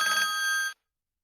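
A 2006 VTech Smartville toy station plays a short electronic telephone ring, one bright trilling burst of under a second that cuts off sharply into silence, with no voices.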